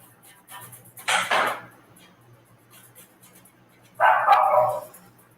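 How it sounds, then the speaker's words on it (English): A dog barks twice in a quiet indoor setting, two short, sharp, fairly loud bursts spaced about three seconds apart against faint background hum. "loud enough to upset Terry the dog"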